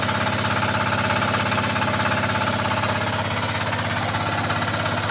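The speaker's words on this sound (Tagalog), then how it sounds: "Ito yung ginagamit na bomba ng patubig." Engine-driven irrigation water pump behind a house, running steadily and loudly throughout with a constant chugging, knocking engine rhythm and no talk.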